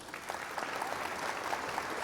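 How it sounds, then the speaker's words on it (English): A canned applause effect plays on a game livestream, a steady burst of many hands clapping with some faint crowd cheering, moderately loud and even for about two seconds. "an applause for the stream here"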